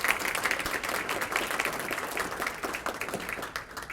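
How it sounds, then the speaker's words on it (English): A banquet audience claps in a dense, sustained round of applause with no break, moderately distant and fairly quiet. "A round of applause for these people."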